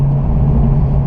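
A C5 Corvette Convertible's engine idles with a loud, rough, steady low rumble and a strong droning hum, heard up close and alone for about a second.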